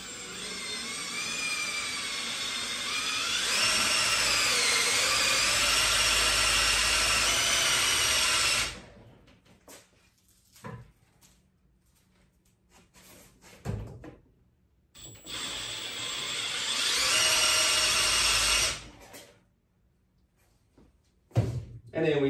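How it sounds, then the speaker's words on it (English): Power drill boring into a Hammer 78D urethane bowling ball in a home garage shop, a loud steady high whine for about nine seconds, a pause with clunks, then a second shorter burst. "Make sure the drill's spinning in the right direction,"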